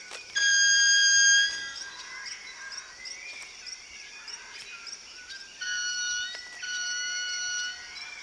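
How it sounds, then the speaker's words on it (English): Manakins give bright, sustained whistling tones in bursts, several overlapping calls layered over faint natural ambience, with short pulsing wing-vibration sounds between them. "The two manakins then compete to see who can vibrate their wings and create the most impressive noise."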